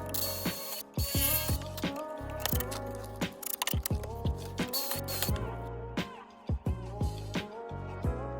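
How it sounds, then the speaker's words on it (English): A screw is driven into a hinge on a new wooden window frame: a close, loud ratcheting whir that repeats in short bursts, stopping and restarting every half second or so. "Now we just screw it in."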